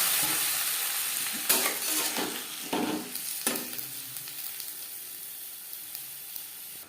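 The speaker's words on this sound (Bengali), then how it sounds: "শুকনো লঙ্কা ভেজে নেওয়ার পর দিয়ে দেবো টমেটো" Tomatoes go into hot oil after dried chillies have been fried for a sugar-free tomato chutney, giving a loud hissing sizzle that slowly fades, broken by several sharp stirring scrapes.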